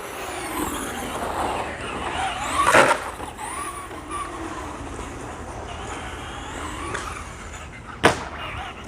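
A Traxxas Stampede 2WD RC truck drives with a steady whining motor and rolling tire noise, a couple of sharp bumps or slams cutting through, fairly close throughout.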